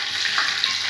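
Toor dal and fenugreek seeds frying in hot oil for a gooseberry vatha kuzhambu, giving a steady, close hiss and sizzle with no talking.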